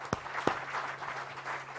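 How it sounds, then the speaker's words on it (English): Applause from an audience at a quiz contest, a brief burst of clapping with two sharp claps standing out, moderately loud and without talk. "they should also get an equal thunderous round of applause"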